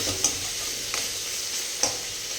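Rice fries in a pan with a continuous close sizzle while a spoon stirs it, leaving a few distinct scraping strokes spaced through the hiss.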